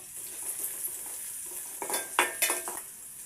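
Onions fry in hot oil with a pinch of turmeric, a steady close sizzle broken by several sharp spoon scrapes and clinks against the pan toward the end, with no talking.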